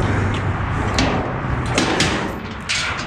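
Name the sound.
dumpster door being opened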